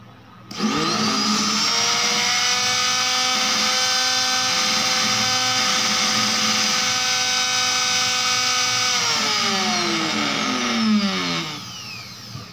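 JLD MT370 wood trimmer router running with no load: a sharp high-pitched whine that spins up quickly, holds steady and loud for several seconds, then winds down as the motor coasts to a stop.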